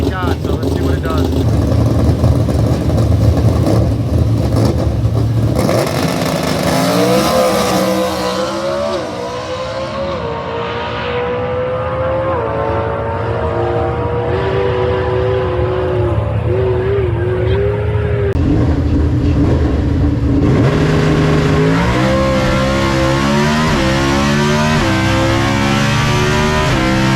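A naturally aspirated Coyote-powered drag car, Carlos Sobrino's Joker 2.oh, makes a pass, engine roaring loud and close as it revs through rising gear pulls, dips, then climbs again in a sustained high-pitched wail.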